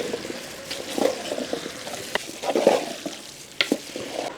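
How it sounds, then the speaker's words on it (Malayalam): Fried prawns being stirred in a pan for prawn pickle, with scraping and soft sizzling in uneven bursts, moderately close and with no talk. "ഇനി ഇതൊന്ന് ഇളക്കി കൊടുക്കുക."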